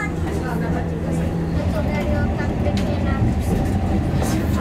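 Interior of a tram running through a Slovak city, a steady rumbling hum and rattle of the car on its tracks, with voices talking over the ride.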